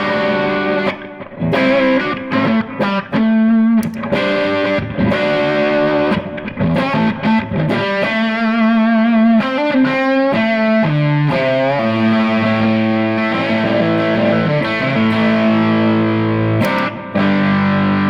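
Electric guitar played through a gain boost with reverb and delay in a warehouse, loud sustained chords and single notes with overdriven grit, lingering echoes and wash trailing behind each phrase, with no talking.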